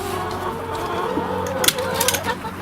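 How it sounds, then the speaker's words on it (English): Chicks and chickens cluck and cheep on a farm, a constant close chorus of peeps and soft clucks with a few louder calls rising near the end. "Chicks."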